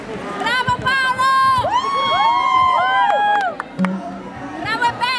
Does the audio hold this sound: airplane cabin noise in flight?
no